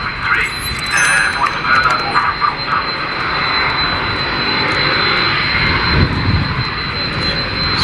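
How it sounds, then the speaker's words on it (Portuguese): An airplane on the runway at Sorocaba airport, runway 19, its engine roaring steadily at close-to-moderate distance with a whine overhead, while a person talks over the noise. "Decolagem, pista cabeceira 19."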